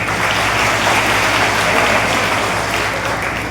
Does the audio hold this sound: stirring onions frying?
no